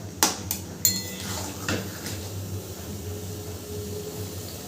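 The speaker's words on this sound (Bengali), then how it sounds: "গ্যাসের ফ্লেমটা একটু জোরে রেখেই মাংসটা আমি একটু কষে নেব" Desi chicken pieces are stirred over a high gas flame in a pan for curry, with a few sharp metallic clanks of a spoon against the pan followed by softer scraping and a faint background hum.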